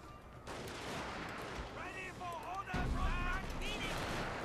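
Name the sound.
troops firing muskets in Total War Shogun 2 video game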